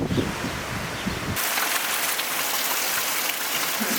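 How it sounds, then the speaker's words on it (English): Steady rain pours down on the building site of a tiny house under construction, a dense, even hiss that grows heavier after the first second and carries on without a break. "It is raining quite a bitty."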